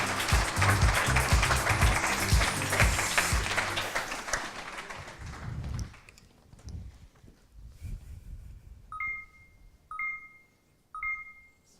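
Audience applause for Sophie Carvazo at the MT180 2018 Hauts-de-France regional final, loud and dense for several seconds, then thinning into scattered claps and fading, followed by a few short repeated tones.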